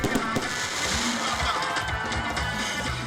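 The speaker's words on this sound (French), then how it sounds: "En plus des feux d'artifice" Fireworks going off during an evening show at the stadium in Toumodi, Côte d'Ivoire, a steady dense crackle and rumble with sharper pops throughout, loud and continuous, with crowd noise mixed underneath.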